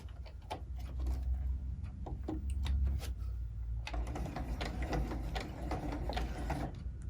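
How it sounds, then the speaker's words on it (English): A sewing machine running steady topstitching about 1/8 inch from the edge around a fabric sunglass pouch, a continuous close mechanical whir with ticking needle beats that picks up and thickens partway through. "we're going to go ahead and just do our top stitching about 1/8 of an inch all the way around here"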